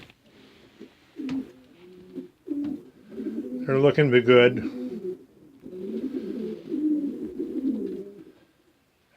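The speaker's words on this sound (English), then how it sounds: "Here's a shot of my young birds." Young racing pigeons coo softly and repeatedly in a loft, low rolling calls with one louder burst partway through, while someone speaks briefly over them.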